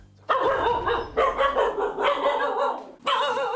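Four-month-old Shiba Inu puppies from a litter of six bark and yip in loud, overlapping bursts close by, with brief pauses between volleys.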